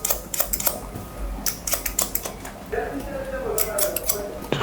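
Scissors snipping hair during a long-hair and beard cut, a run of sharp, close clicks in irregular bursts with a quieter stretch of room sound and faint talk behind.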